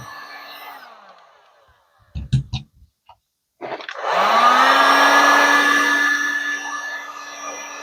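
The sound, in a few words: heat gun shrinking heat-shrink tubing on hair dryer wire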